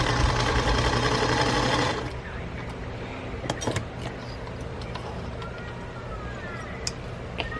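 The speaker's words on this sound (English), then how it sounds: "I'm going to sew directly on top of the line." A domestic sewing machine stitches along a marked line on a quilt's mitered corner, its fast mechanical whir running close and loud for about two seconds, then stopping into quiet handling noises.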